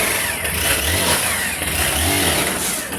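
Close and loud, a Honda XRE190 motorcycle engine runs steadily with an abnormal mechanical noise, suspected to be a worn clutch primary shaft bearing, with a low rhythmic throb beneath a continuous whirring hum.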